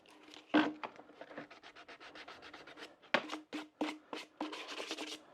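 A wooden box gets a quick hand sanding before painting: rapid, quiet back-and-forth rubbing strokes in close, irregular bursts with short pauses.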